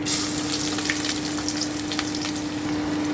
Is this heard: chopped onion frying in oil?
yes